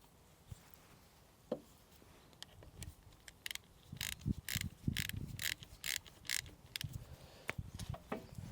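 An oil drain plug being screwed back into a vehicle's sump, heard as quiet, close ratcheting clicks in a quickening series of short metallic ticks, without any voices.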